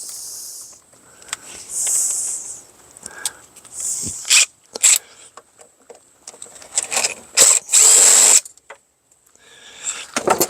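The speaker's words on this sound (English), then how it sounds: "Taking all the screws out." A power drill backs screws out of a Kirby vacuum in short whirring bursts, several spaced apart with pauses between, close and fairly loud.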